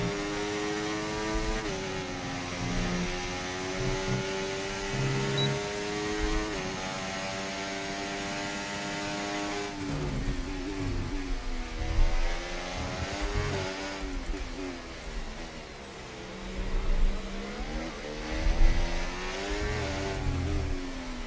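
Mercedes Formula 1 car engine from the F1 24 racing game at the Mexico circuit, a continuous high-pitched whine with stacked harmonics sliding up and down through gear changes, steady and loud with no talking.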